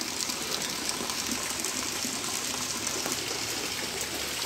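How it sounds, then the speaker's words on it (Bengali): Rainwater pours off a house roof into a drum, making a loud, steady, continuous gushing splash with no pauses and no speech. "কিভাবে পানি দিয়ে ড্রাম ভরে পানি পড়ছে দেখুন।"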